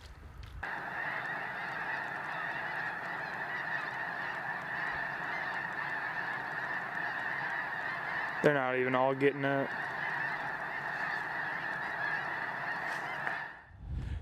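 A large flock of snow geese at Squaw Creek in northwest Missouri honks continuously in a dense, steady chorus that runs through the whole stretch, with one nearer, louder burst of honking rising over it partway through and a voice speaking briefly.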